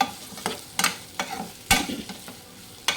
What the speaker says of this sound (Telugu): ఆనియన్ వేసిన తర్వాత దీన్ని ఇలా కలుపుకుందాం